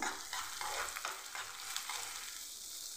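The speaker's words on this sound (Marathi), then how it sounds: "हे चांगलं असं 2-3 मिनिट भाजून घ्यायचं आहे" Onion, green chilli and dal roast in oil in a pan for Maharashtrian upma, giving a steady close sizzle with scraping stir strokes throughout and no talking.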